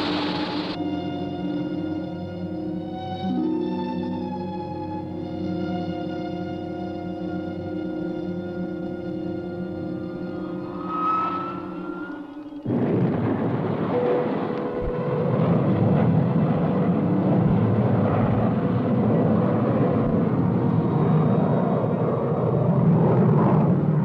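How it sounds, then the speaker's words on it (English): A spaceship's retro rocket fires for landing as a cartoon effect. A steady whining tone gives way to a loud, sustained roaring rush of thrust that holds close and strong to the end. "Firing retro rocket."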